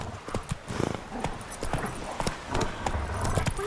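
Roach the horse's hooves clip-clop at a quick, steady trot in The Witcher 3, close and continuous over faint ambient game sound.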